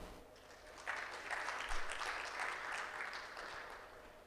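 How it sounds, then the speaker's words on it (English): Audience applause at the Mastercard Foundation EdTech Fellowship ceremony, a steady wash of clapping lasting several seconds, moderately distant and fairly soft, swelling slightly in the middle before holding even. "Ladies and gentlemen, a round of applause for Ms."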